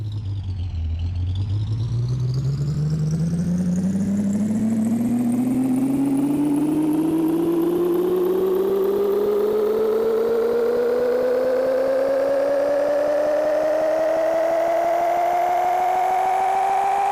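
A video-game truck engine hums and whines as it reverses, its pitch climbing steadily from a low rumble to a strained high drone across the whole stretch, loud and unbroken with no talking.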